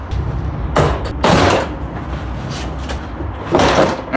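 The driver door panel of a 2017 Ford Transit T-150 rattles in three loud, short bursts of clattering plastic, with quieter gaps between them and no speech.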